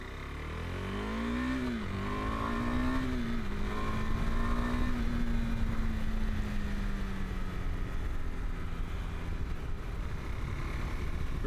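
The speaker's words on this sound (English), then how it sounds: "It does sound like a postie bike though" A light motorcycle with a small engine reminiscent of a postie bike, ridden steadily, its buzzing note rising and then holding even and close throughout, with no talking.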